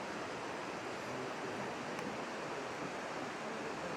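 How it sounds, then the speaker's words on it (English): A waterfall in the forest park at Capilano Suspension Bridge in Vancouver makes a steady, broad rushing roar of falling water, constant and fairly loud with no voices over it. "So just up ahead there is a waterfall."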